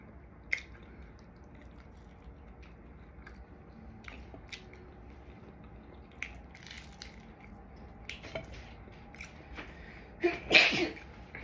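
A single sharp sneeze bursts out near the end, following a quiet stretch of faint clicks and soft background noise.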